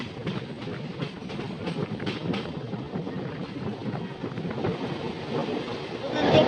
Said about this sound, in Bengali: ইস্টার্ন রেলওয়ের মেমো ট্রেন টানেলের মধ্যে ঢুকছে